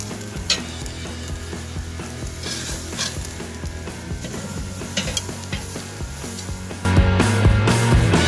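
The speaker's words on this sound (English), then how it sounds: "You can hear that sizzle." American Wagyu NY strip steaks sear on a hot grill with butter and spice, giving a loud, steady, close sizzle with crackles throughout that grows fuller near the end.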